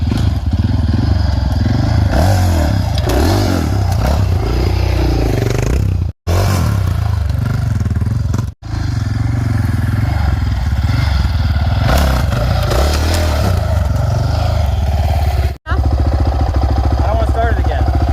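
A dirt bike engine revs and labors up close while riding over a log, with surging throttle, clattering and a few thumps from the bike hitting the log. A voice talks over the engine.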